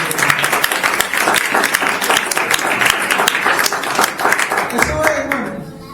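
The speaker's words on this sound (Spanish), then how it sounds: "¿Cuánto le dan fuerte palmas al Señor por esa poderosa palabra?" Church congregation clapping loudly for the Lord during a Spanish-language sermon: dense, crisp hand claps filling the room steadily, with voices calling out underneath, tapering near the end.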